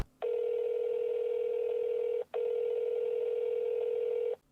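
Steady telephone dial tone inside a Roblox horror game, sounding loud and clean in two long stretches split by a brief gap.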